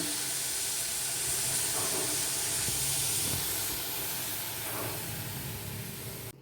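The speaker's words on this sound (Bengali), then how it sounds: "তো দেখো বন্ধুরা কাঁকরোলটা এরকম পুড়িয়ে নিয়েছি এরকম কালো কালো হয়ে গেছে" Spiny gourd with black cumin and other spices roasting over a gas flame, a steady close hiss of burning gas with faint crackles, no voices.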